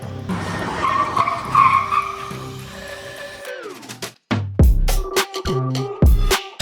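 Honda Civic FK8 and Civic FC fitted with 355 mm brake discs, braking hard from speed so the tires skid and squeal, in several loud bursts separated by short pauses.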